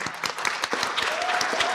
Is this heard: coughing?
no